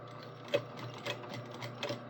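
A sewing machine runs a slow row of top stitching on a jeans back pocket, heard as a quiet mechanical hum broken by a few soft, rhythmic stitch knocks.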